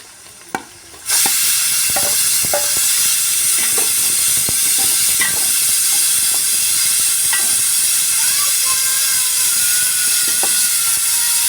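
Ginger garlic paste and sliced tomatoes fry in a pan with a loud, steady sizzle and hiss that starts abruptly after a brief quiet moment. Occasional scrapes and stirring clicks sound over the sizzle, and no one speaks.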